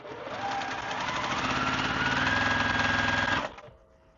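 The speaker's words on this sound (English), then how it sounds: "And I'm just going to sew all the way down." A sewing machine stitches rows of a quilt block in one continuous run, a steady rapid mechanical hum with a rising pitch, close and fairly loud, then it stops abruptly near the end.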